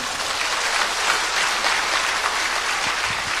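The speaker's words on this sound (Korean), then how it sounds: "이런 거 박수 쳐야지." A lecture audience claps in a steady, dense burst of applause that holds at an even level throughout, with no voices over it.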